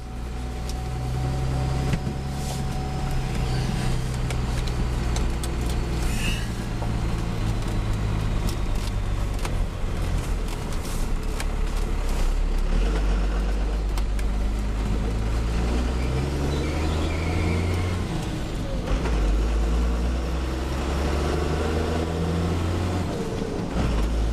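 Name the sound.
Cummins diesel-swapped Chevrolet Silverado truck on its first test drive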